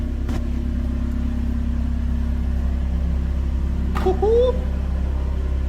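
A 2021 Toyota Camry with a newly installed exhaust idles with a steady low rumble, then gives a brief rev near the end while a voice whoops over it.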